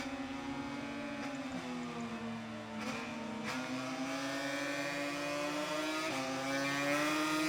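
A motorcycle engine in a Le Mans racing video game revs in first gear out of a corner, a steady whining tone rising in pitch with brief dips at gear changes, continuous and moderately quiet throughout.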